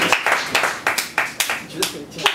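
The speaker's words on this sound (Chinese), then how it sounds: "让我们再给悠悠一个掌声" An audience at a comedy club claps in quick, rhythmic bursts of about three a second, close and lively, with cheering voices mixed in.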